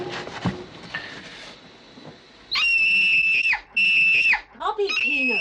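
A child screams in pain in a drama scene: long, piercing, high-pitched cries in several bursts with brief breaks, loud and close, following rustling and movement noises.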